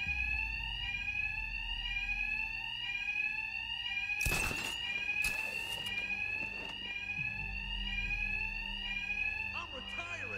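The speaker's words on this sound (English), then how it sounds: "these thugs can't hear a thing over the alarms." A loud alarm in the video game Batman Arkham Knight repeats its rising electronic wail steadily throughout, while a sharp impact bursts in briefly, people talk and game noise runs underneath.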